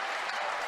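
Badgers fans at a Wisconsin volleyball match clap for a point, a steady, dense wash of crowd applause filling the whole short moment.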